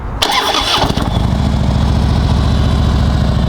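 A Harley-Davidson Street Glide FLHX with about 13,000 miles cranks briefly and fires up, settling straight into a loud, steady, lumpy V-twin idle heard close and alone.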